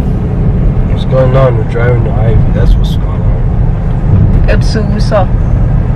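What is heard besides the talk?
car driving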